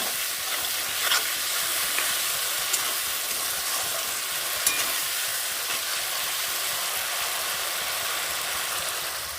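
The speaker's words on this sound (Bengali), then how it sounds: "আর দিয়ে দেবো ভেজে রাখা আলু আর দুটো কাঁচা লঙ্কা এটাকেও বেশ দু মিনিট আমি একটু ধিমে আঁচে কষিয়ে নেব" Fried potatoes and two green chillies sautéing slowly on low heat, a steady soft sizzle running throughout with a few faint clinks of stirring, no voices.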